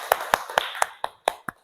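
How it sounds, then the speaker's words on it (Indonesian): Children in a classroom clap for their group work in seven sharp, evenly spaced claps that sound close and loud, with no talking over them. "Kita beri tepuk tangan dulu dong untuk hasil kerja kita."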